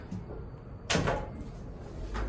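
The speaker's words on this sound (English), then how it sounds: "And the door close button works." The elevator door in the MTSU True Blue parking garage slides shut, with one sharp clunk near the middle and a softer knock at the end over a quiet mechanical hum.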